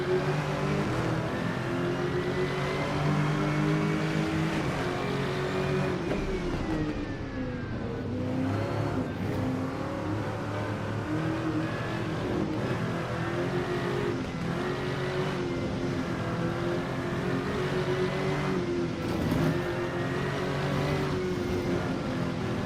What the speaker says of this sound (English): It's like someone trying to do a sound of a GT3.